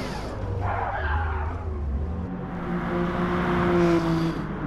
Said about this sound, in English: Oh, big contact with that tyre wall.